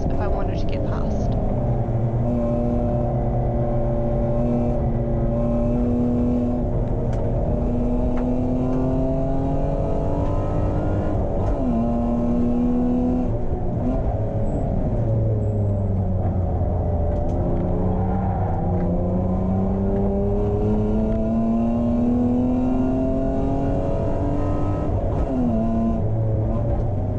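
BMW E36 race car engine racing at Hampton Downs, loud and close from onboard, the revs rising and falling in sweeping tones through gear changes and corners, continuous throughout.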